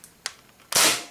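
Adventure Force Hyperspin rotating drum toy blaster fires a foam dart, with two quick clicks followed by a sharp, close puff of air that trails off briefly.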